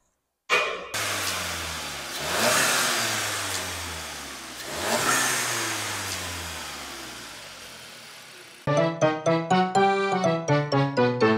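VW GTI with an aftermarket intake, turbo inlet and turbo muffler delete starts up, then revs loudly twice as the engine rises and falls. It ends with a rapid burst of sharp, popping throttle blips.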